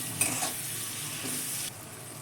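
Chopped tomatoes and capsicum sizzling in hot oil in a wok: a steady, close frying hiss with brief stirring scrapes, loud and continuous, with no voices.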